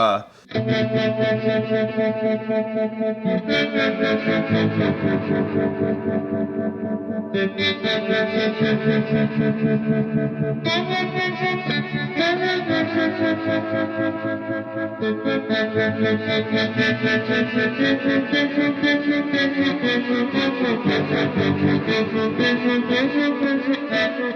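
An electric guitar runs through a Gecko Pedals O Face modulated overdrive, playing sustained, wavering overdriven chords and notes with echoing, chorus-like swirl, loud and continuous for over twenty seconds.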